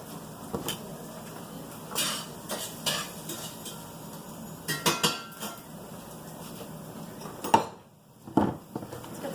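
Metal pie pans clatter and scrape as one is pulled from a stack to fetch a smaller one, with scattered clinks and knocks close by and a louder bang near the end.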